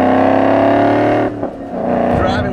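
Ford Mustang GT (2011-2014) with a Borla exhaust, loud deep steady engine drone that drops off briefly then returns with rising revs.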